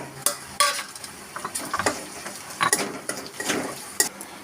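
Spice powders dropped into hot oil for a crab curry, with a light sizzle under repeated spoon clinks and scrapes against the pan, close and fairly loud, with no talking.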